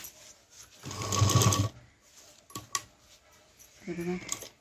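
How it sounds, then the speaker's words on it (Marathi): A sewing machine double-stitches a fabric tiffin bag in a short burst of rapid mechanical whirring, followed by a few isolated clicks and a brief second run, close and fairly quiet. "तर ही पहा, डबल शिलाई माझी इथपर्यंत होत आली."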